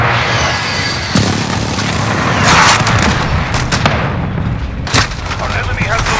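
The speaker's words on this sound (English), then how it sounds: "Friendly precision airstrike on the way." Precision airstrike explosions in Call of Duty Modern Warfare, heavy booming blasts over a continuous rumble with several sharp impacts, loud and close, with speech mixed in.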